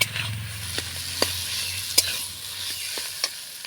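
Boiled, mashed potatoes are stirred in a wok, giving a soft, steady sizzle with irregular light scrapes and taps of the utensil against the pan, close and fairly quiet, with no talking.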